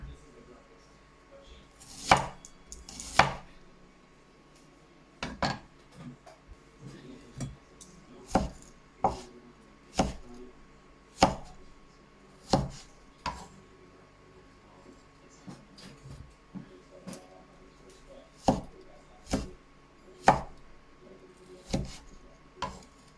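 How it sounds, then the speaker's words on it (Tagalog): Onions, garlic and tomato being chopped with a knife on a board for pinakbet: sharp, distinct thuds spaced a second or two apart, close and fairly loud, with quiet gaps between them. "Susunod na natin hiwain ang ating mga sibuyas at bawang. Lalagyan ko rin siya ng isang kamatis."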